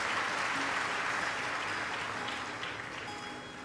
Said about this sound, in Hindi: एक बार यजमान परिवार के लिए जोरदार ताली बजाकर स्वागत